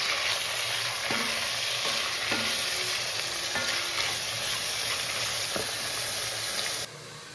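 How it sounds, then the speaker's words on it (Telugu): Cumin seeds and dried red chillies frying in a hot pan: a constant bright, close sizzle with occasional spoon taps and stirring scrapes, cutting to quieter near the end. "జీలకర్ర, ఎండుమిరపకాయలు వేగిపోతున్నాయి"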